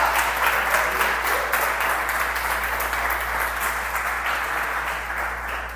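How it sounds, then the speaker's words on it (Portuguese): A church congregation breaks into steady, enthusiastic applause, many hands clapping together in a full, continuous wash that tapers slightly toward the end over a low hum. "Agora dá um aplauso ao Senhor Jesus."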